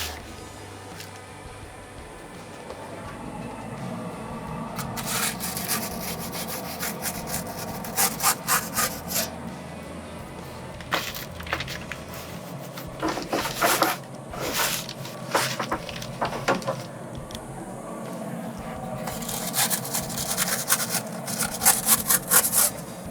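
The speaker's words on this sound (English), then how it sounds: "Now, we're just going to slide underneath, right onto our spatula." A spatula slides and scrapes under pizza on a pizza stone in a Pit Boss grill, making repeated gritty rubbing scrapes in bursts, nearby, with no speech.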